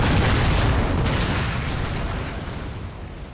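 Cannon artillery fire in the Napoleon Total War video game: a loud, rumbling boom with a long rolling decay that fades gradually over a few seconds, with no talking over it.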